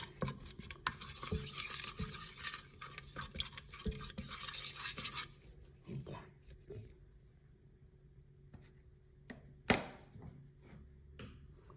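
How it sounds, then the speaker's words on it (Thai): A utensil stirring in a bowl to dissolve curry paste for Thai fried pork patties, scraping and swirling for several seconds up close, then quieter handling, a single sharp knock near the end. "ละลายเครื่องแกงของเฮาให้มันเข้ากันพี่น้อง"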